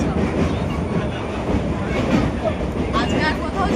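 Steady rumble and rattle of a moving train on a long-distance trip to Puri, running continuously at close range with a voice talking over it.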